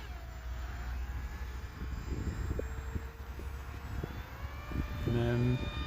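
A Hobbyzone Aeroscout RC plane circles overhead, its faint, thin motor whine drifting in pitch beneath steady wind noise and near background rumble.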